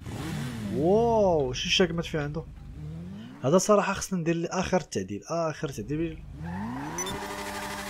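A motorcycle engine in Grand Theft Auto V revs up and down in rising and falling sweeps. Someone talks excitedly over and between the revs.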